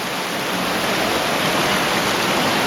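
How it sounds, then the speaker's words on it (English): A cave stream in Easegill, upstream from Stake Pot, surges hard through narrow flumes in near-flood conditions, a loud, steady roar of rushing water that stays close and continuous throughout. "today the flumes are actually flowing with quite a significant strength"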